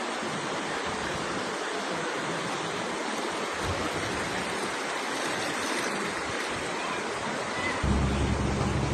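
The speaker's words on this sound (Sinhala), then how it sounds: "මේ පේන්නේ ගඟ. මේ ගඟ මට්ටම තමයි ඔය තියෙන්නේ." A swollen, flooded river near the Bandarawatta bridge at Kaduwela, Sri Lanka, pours past in a constant, even rushing roar that holds steady for the whole stretch, heard at a moderate distance without talk.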